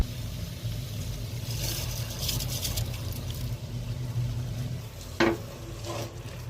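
Vegetables and masala are stirred in a pan while cooking a vegetable pulao, giving a soft, steady scraping and sizzling with a sharper clink of the spoon near the end, with no talk.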